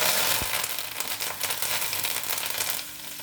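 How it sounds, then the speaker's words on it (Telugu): Curry leaves, cumin seeds and dried red chillies dropped into hot oil for a potato fry curry, a close crackling sizzle with a sharp burst at the start that settles into steady popping and spitting, with no talking. "ఇప్పుడు ఈ పోపులు ఎర్రగా వేగినాయి ఇందులో కరివేపాకు జీలకర్ర ఎండుమిర్చి వేసేస్తుంది"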